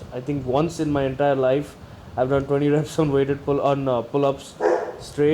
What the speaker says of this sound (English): I excuse my dog for barking.